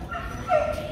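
An H'Mong bobtail dog at a dog show in Vietnam gives a quick, close bark and yip over a steady background.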